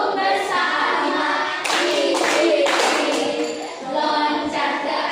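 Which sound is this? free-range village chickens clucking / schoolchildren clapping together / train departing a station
schoolchildren clapping together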